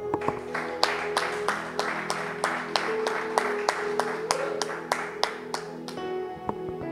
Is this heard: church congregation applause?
yes